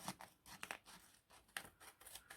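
Ordinary scissors cutting a paper journaling card, a series of faint crisp snips and rustles in irregular rhythm, close and quiet with no talk.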